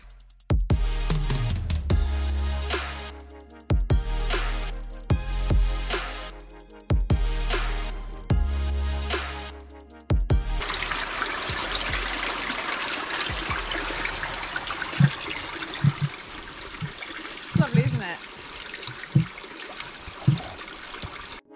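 Water trickles from Sister's Fountain, a freshwater spring on Exmoor, a steady close splash and dribble that follows several seconds of rhythmic pulsing sounds.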